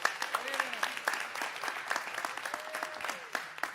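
Audience applause at a governor's economy and jobs announcement, sparse and modest clapping continuing steadily under voices talking over it.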